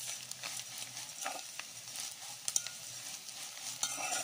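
Fresh lake omena, small fish, sizzling steadily in a hot frying pan while being stirred, with scraping stir strokes and sharp crackles over a constant close fry, no voices.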